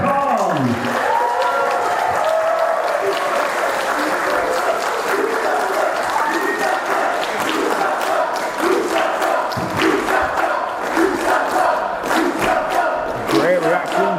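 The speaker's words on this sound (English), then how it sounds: "Great reaction from the crowd for Mustafa Khan, the new general manager of" A crowd at a Genesis Wrestling event applauding and cheering for the new general manager, steady loud clapping and shouting throughout with voices mixed in.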